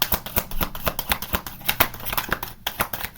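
Tarot cards are shuffled by hand in a quick, uneven run of crisp riffling slaps and flutters, close and fairly loud, with no talking over them.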